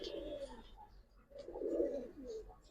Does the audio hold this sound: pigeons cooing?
yes